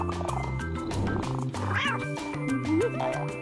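A cartoonish pet cat meows in a video game, with bouncy game music playing throughout and rising tones near the end.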